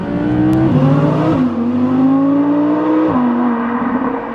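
An Audi R8 V10 Performance driven hard, its engine loud and close, revving up through the gears with sharp shift drops in pitch, no voices over it.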